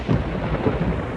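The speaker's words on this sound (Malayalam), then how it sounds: "മഴ വരാൻ പോണ്ടല്ലോ, ഇനിയിപ്പോ എന്താ ചെയ്യാ?" Rolling thunder rumbles low and heavy before rain, a broad continuous grumble with a couple of deeper swells, moderately loud and with no voices.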